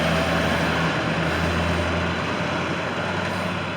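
A 2013 International shuttle bus engine runs in a loud, steady, close drone with a low rumbling idle and no clear change in pace.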